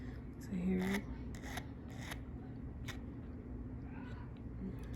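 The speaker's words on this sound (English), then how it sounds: "just gonna go on and keep filing" A hand file scrapes the metal prongs of a ring set with a faceted citrine, giving faint, short rasping strokes in a loose rhythm against a quiet workbench background.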